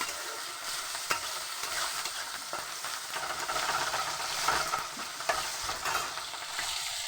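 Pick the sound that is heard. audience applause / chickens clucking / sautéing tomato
sautéing tomato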